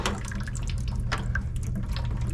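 Water draining from an on-demand water heater during a flush, a steady continuous splashing flow with a low rumble, close and unbroken throughout.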